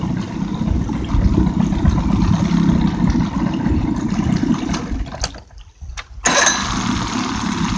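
A 1990 Johnson 50 hp outboard motor running, loud and close with a steady rumbling drone that briefly dips and sputters near the end before picking back up, no talking.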